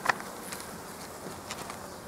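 Honeybees being shaken off a hive frame, a faint, continuous insect buzz with a few brief sharper knocks, heard closely without talk.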